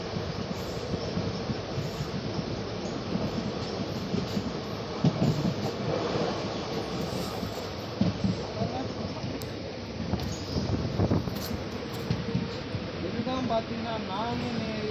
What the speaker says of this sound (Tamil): பார்த்தீங்கன்னா நாங்குநேரி ரயில்வே ஸ்டேஷன்